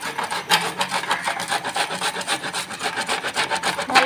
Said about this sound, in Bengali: ভালো করে একটু গ্রেট করে নিব।